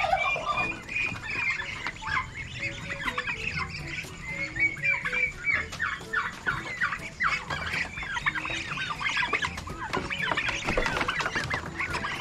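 A flock of turkeys clucks and squawks close by in a rural yard, a busy, overlapping stream of calls at steady volume.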